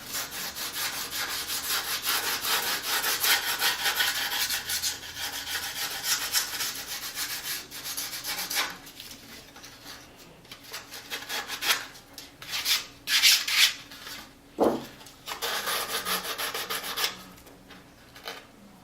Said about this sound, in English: take some sandpaper and you can kind of sand off those little rough edges